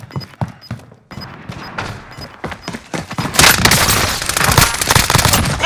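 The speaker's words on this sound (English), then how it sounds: "Receiving hostile fire." Bursts of gunfire in Call of Duty: a few sharp isolated shots with short gaps, then a loud sustained rattle of rapid automatic fire and explosions, close and harsh, with faint beeping tones early on.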